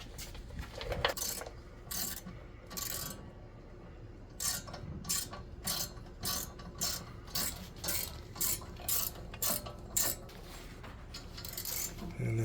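Socket wrench removing bracket bolts on a 2015 Ford Escape during rear steering knuckle work, rapid metallic ratcheting clicks in short repeated bursts, faint and close, with small clanks between strokes.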